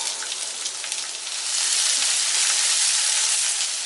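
Chana dal and urad dal roasting over a medium flame in a pan give a steady, dense sizzling hiss that grows slightly louder partway through, with no voices.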